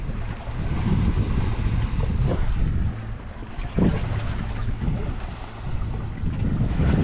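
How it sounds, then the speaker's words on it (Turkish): A motorboat drones past under steady wind and water sounds, its low engine hum rising and fading against rushing air and lapping waves. "tekne motorla geçiyor"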